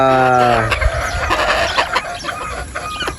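A gamefowl rooster, a lemon crossed with a sweater, crows loudly and up close, followed by a run of clucking.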